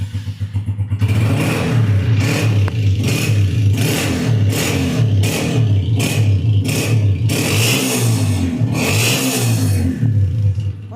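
A car's engine runs and revs repeatedly in a showroom, a steady mid-pitched idle rising into rhythmic bursts of acceleration, close and loud, with no talking.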